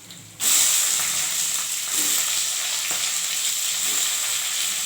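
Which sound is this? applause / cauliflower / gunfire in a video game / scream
cauliflower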